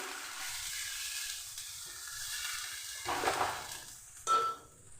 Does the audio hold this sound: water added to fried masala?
yes